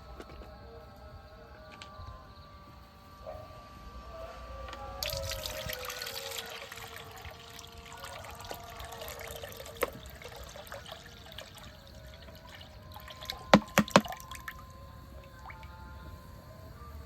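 About two kilograms of milk is poured for a Bengali milk pitha, making a faint, steady liquid trickle with a few sharp clinks near the end.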